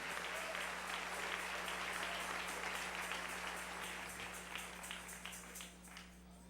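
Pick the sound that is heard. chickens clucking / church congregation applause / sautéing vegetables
church congregation applause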